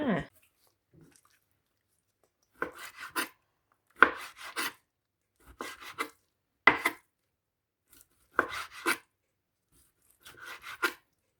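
A knife slices through raw chicken in short bursts of wet, squelchy cutting, repeated in about six separate strokes with quiet pauses between them.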